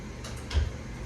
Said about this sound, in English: Hearing you close and lock it right now.